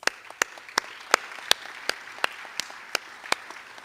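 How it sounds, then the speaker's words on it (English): At an athletics recognition ceremony, a single person claps alone in a slow, even rhythm, about ten sharp distinct claps, close and clear against a quiet room. "I'd like to give you all a round of applause."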